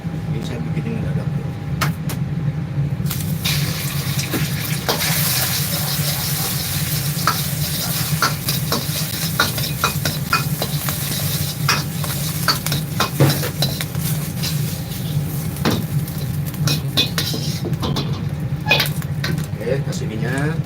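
Chicken fried rice frying and being stirred in a wok, with steady sizzling and scraping of a utensil against metal throughout, busy kitchen clatter, and voices talking over it.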